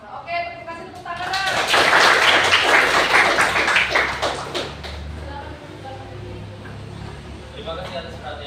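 An audience at a school teaching-practice presentation claps, and the applause swells quickly to a loud, dense peak before thinning out. A voice speaks over the clapping.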